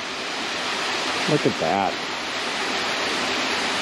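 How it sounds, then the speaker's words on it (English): Water pours steadily at Munising Falls in Michigan, a continuous broadband rush close by, while a person speaks briefly over it midway. "And hopefully you can hear the sounds of the trickling water."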